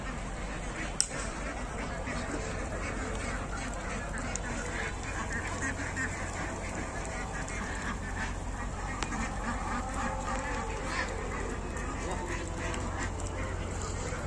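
Farm ducks at a fenced duck house beside a pond quack on and off over a constant noisy outdoor background. Faint voices can be heard in the background.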